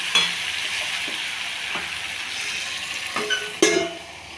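Potatoes fry in hot oil for a potato curry while a spoon stirs them, producing a continuous sizzle punctuated by several sharp clinks and scrapes against the pan, the loudest knock near the end.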